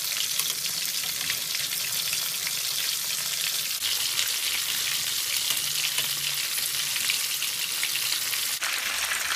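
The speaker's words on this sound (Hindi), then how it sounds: "और इस साइड से भी हम फ्राई कर लेंगे" Chicken pieces fry in a pan of hot oil, giving a continuous bright sizzle and crackle, moderately loud and steady for several seconds, with no voices over it.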